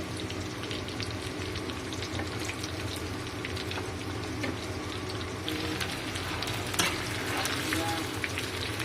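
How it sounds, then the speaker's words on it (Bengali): Kebabs fry in a pan with a steady crackling sizzle and scattered pops, heard up close and without speech. "কাবাবটা কালার হয়েছে, খুব সুন্দর ভাজা হচ্ছে"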